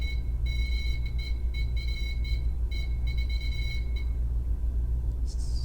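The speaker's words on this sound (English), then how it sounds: "That's a lot of little beeps." Series of short electronic beeps from a device during a backstage ghost-hunting session, rapid clusters of high tones repeating over a low steady hum, fairly close and clear.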